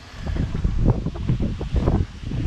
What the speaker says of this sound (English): This wind is probably beyond its limits.